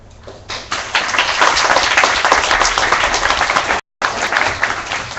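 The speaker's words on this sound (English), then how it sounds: "Round of applause again for Nico and his insights on WC 2014" Dense, loud applause fills a meetup hall at the Webcamp KL March 2014 tech event as the crowd applauds a speaker named Nico. It holds steady for several seconds and cuts out briefly near the end before resuming.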